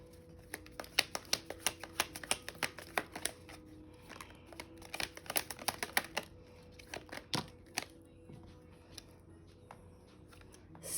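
Rapid, uneven riffling and snapping of tarot cards being shuffled, in bursts of crisp clicks with brief pauses, close and fairly quiet, no talking.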